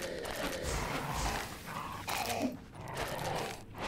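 A dog companion fights enemies in the survival game DYSMANTLE, with close barking and growling over a dense, continuous layer of combat noise, without pauses.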